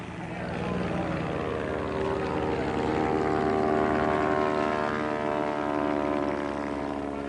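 Propeller aircraft fly past at an air show, a loud, steady engine drone with a harmonic hum holding for several seconds and swelling slightly as it passes.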